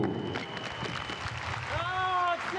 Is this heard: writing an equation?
no